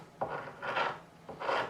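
Strokes of a scraper scoring into the wood of a Warwick Corvette Double Buck bass neck during a repair, three close rasping passes with short pauses between them, alone without talk.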